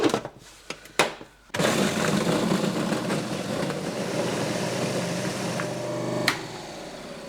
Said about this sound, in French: je vais tout simplement mixer le tout dans mon mixeur